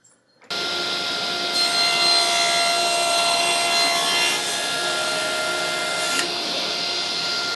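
A saw cuts through 8-inch-wide wooden boards with a steady, loud, whining drone close by, running without a break after a sudden start.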